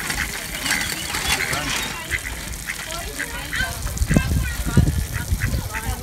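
Several ducks quacking and honking nearby amid splashing water, with a person speaking softly over the birds.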